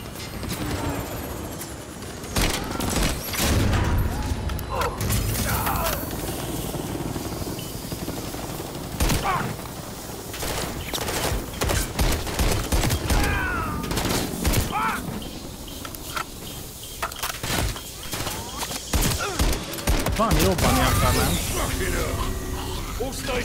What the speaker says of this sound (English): Put fire on that helo.